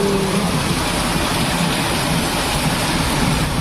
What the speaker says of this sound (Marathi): तुम्हाला मी दाखवते किती जोरात पाऊस पडत आहे